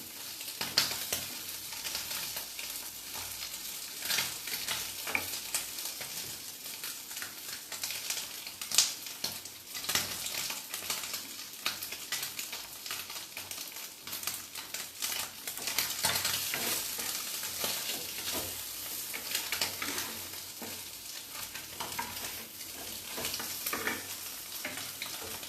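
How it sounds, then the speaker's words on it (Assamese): Food fries in a hot pan with a constant crackling sizzle, broken by scraping stirs from a spoon over about twenty-five seconds, no voices. "ৰঙাকৈ ভাজি ল'ম, তেনেহ'লে টেষ্ট আহিব।"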